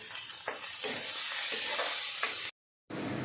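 Sliced onion and a bay leaf frying in oil in a pan, giving a steady close sizzle with occasional stirring scrapes, briefly cut to silence before the sizzle resumes.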